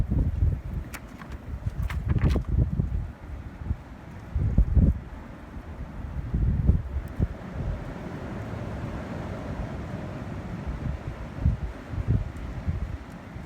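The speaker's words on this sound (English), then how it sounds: "it is a really windy day, and one of the things I could hear was the wind" Gusty wind rushing through a backyard on a very windy day, swelling and fading in uneven bursts with faint rustling, buffeting the microphone at moments; no talking.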